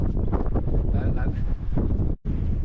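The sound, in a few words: strong wind blowing into the microphone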